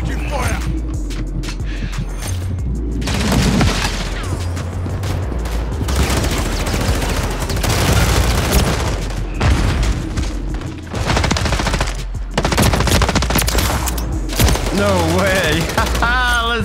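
Gunfire in the video game Call of Duty: Modern Warfare 3, with bursts of automatic rifle fire and booming blasts running nearly nonstop, loud and close, while a player speaks over the shooting and game voices chatter.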